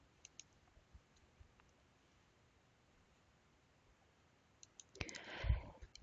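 Very quiet mouse clicks in a software interface, a few soft single ticks early on, then a cluster of clicks followed by a brief rustling handling noise near the end.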